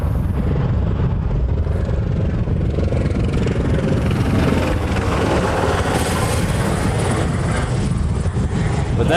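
An Airbus A380, the Flying Honu, taxis at a Hawaii airport, giving a loud, steady roar of jet engines that fills the whole stretch with a broad rumbling whine; no voices stand out over it.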